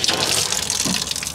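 Leftover water draining out of household pipes at the lowest point of a home after the main shutoff valve is closed, a steady close gushing, splashing flow with no voices.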